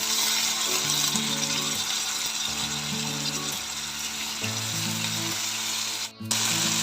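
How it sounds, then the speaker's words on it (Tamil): Tomatoes fry on a high flame in a pan for chicken gravy, giving a dense continuous sizzle with a low hum and a brief dip near the end, close by and with no talk. "இப்போ நல்லா ஹை ஃப்ளேமில் வச்சு வதக்குங்க."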